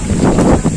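Strong, heavy wind blows during rain outdoors by a muddy field, a dense steady rushing roar buffeting close against the microphone with slight surges, and no one speaking.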